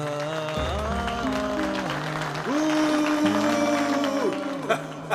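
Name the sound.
audience applause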